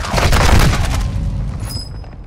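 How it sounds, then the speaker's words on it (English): Mortar strike explosions in Call of Duty: Modern Warfare II Warzone 2, a loud rolling series of deep booms and crackling blasts that swells, then decays into a rumbling tail. "Why did the mortars keep landing on you?"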